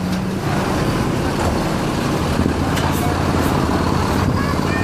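An ANS intercity bus pulls into a terminal, with a constant loud engine drone and road traffic noise filling the scene and faint voices mixed in.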